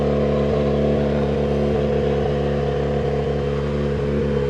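A rally car with a badly damaged rear left wheel, down to a bare rim, pulls away at Rally México: a steady, loud engine drone with a low hum and repeated rhythmic thumps from the wheel, heard close and continuous.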